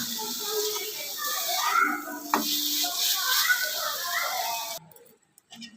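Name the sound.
chilies frying in a pan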